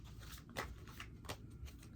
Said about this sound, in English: So I'm just shuffling now.